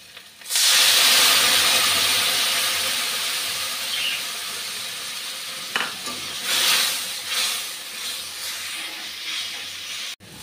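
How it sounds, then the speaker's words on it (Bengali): A loud hiss bursts up as water-mixed spice paste hits hot oil with fried onions for a katla fish curry, then sizzles steadily while a utensil scrapes and stirs the pan now and then. "মশলাটা দেখুন খুব ভালো করে ভেজে নিয়েছি"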